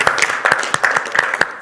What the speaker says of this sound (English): please give a round of applause to Paul.